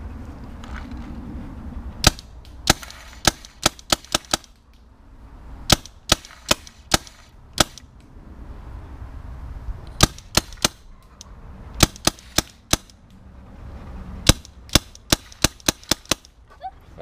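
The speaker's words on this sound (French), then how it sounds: "tu tires au-dessus de Max." Planet Eclipse Emek Cal50 paintball marker firing at low pressure outdoors, loud sharp pops in quick irregular bursts with pauses between volleys, no talking.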